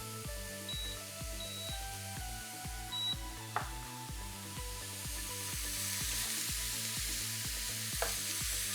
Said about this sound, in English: I'm roasting the garlic and along with it a bit of walnuts